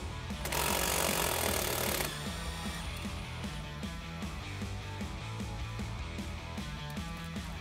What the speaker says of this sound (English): I'm just gonna come in with the wrench and the 15 millimeter socket